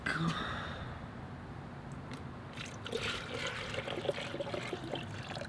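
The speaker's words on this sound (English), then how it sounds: "We're gonna go throw some water in." Water poured into the cooling system of a Miata-engined kart, a steady close trickle and splash running throughout with faint background noise.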